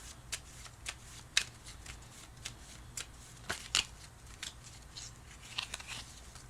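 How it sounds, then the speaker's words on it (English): Tarot cards are shuffled by hand in a quiet room, a run of soft riffling snaps and papery flicks repeating irregularly at close range. "So I will shuffle, and then when I'm ready, I will pull a card."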